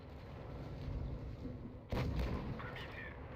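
A tank cannon fires an armor-piercing shell in World of Tanks, a single loud boom partway through against steady engine and battle rumble.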